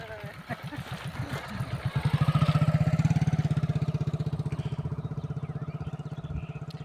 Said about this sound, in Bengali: এই যে দেখুন একটা বাইক নিয়ে যাচ্ছে।